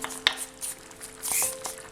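Spoon stirring jackfruit and chicken curry in a pan, giving a few scraping clinks and a soft sizzle. The sounds are close and fairly quiet, with a brief brighter scrape near the middle.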